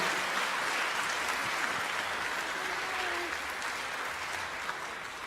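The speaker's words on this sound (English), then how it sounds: "can we have a huge round of applause and a thank you for Kerry and Neville?" An audience at a gaming convention panel claps steadily and enthusiastically for several seconds, a dense wash of applause that holds throughout.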